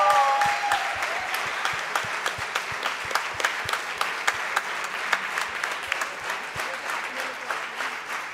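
Audience applause at a valedictory function for a moot court competition, a steady dense wash of many hands clapping that fills the whole stretch, loud and sustained with sharper individual claps standing out near the front.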